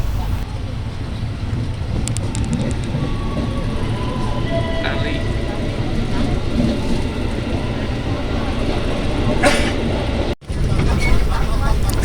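Rumbling, rattling interior of a moving commuter train nearing Duri station in Jakarta, steady and loud, with wind noise and a brief dropout near the end.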